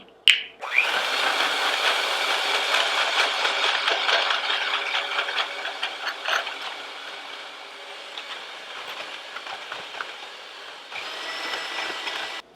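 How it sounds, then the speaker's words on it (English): A small electric hand mixer whirs steadily while beating egg yolks and sugar for candy cane ice cream, a continuous buzzing drone with slight wavering, starting abruptly and dipping briefly before picking back up near the end. "we're just going to do that with a little hand mixer, and we want to beat it until it turns light yellow and it becomes a little bit fluffy"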